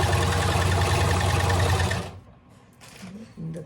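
A sewing machine stitches the lining of a blouse, running loud and steady for about two seconds before stopping, followed by soft handling noises and a little quiet talk.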